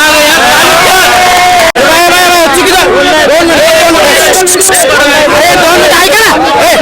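Dense crowd hubbub at a village election gathering in Kotul, Akole, with many overlapping voices chattering loudly and continuously, close and busy throughout.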